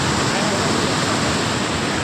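Water surges through a partly opened gate of Indrapuri dam on the Son river, a loud, unbroken roar of rushing flow that stays steady and close throughout.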